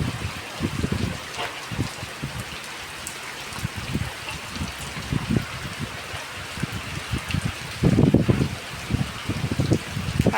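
Rain falls in a storm with a continuous close hiss of drops on surfaces, broken by low buffeting wind thumps that swell louder near the end.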